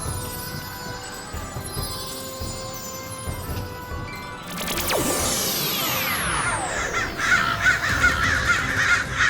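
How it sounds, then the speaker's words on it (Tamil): A crow caws in an animated adventure episode, its calls mixed into a busy soundtrack of music and swooping, whooshing effects that grows louder partway through. "இந்த காக்கா என்ன ஃபாலோ பண்றதை நிறுத்தவே மாட்டேங்குது."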